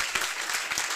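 A classroom audience gives a short burst of loud applause for Sumit Sir, close, even clapping lasting about a second.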